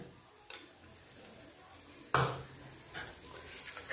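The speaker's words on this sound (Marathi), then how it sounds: "मंदच गॅसवर मसाले असे तळून व्यवस्थित होतं।" Spices frying in oil over a low gas flame for egg masala, a soft steady sizzle with a sharp scraping stir near the middle and lighter clinks of a spoon against the pan.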